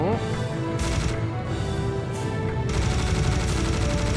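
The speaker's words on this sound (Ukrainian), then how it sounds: "Ми тому що дістаємо мініган і розвалюємо цю підступну засідку." Minigun firing in the Serious Sam video game, dense rapid gunfire in long sustained bursts with brief gaps between them, loud and close.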